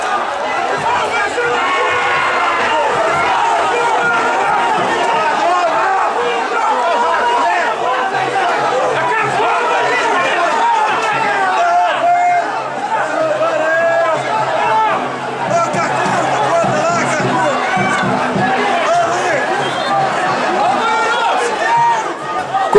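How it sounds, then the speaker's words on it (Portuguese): Loud, dense stadium crowd noise from football fans protesting during a Brazilian match between Patrocinense and Araxá, a continuous roar of shouting and babble that swells throughout with no clear breaks. "E a revolta da torcida só aumenta."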